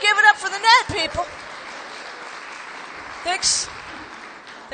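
Audience applauding at a stand-up comedy benefit show, a broad clapping wash that follows a burst of talk and carries on steadily beneath the room.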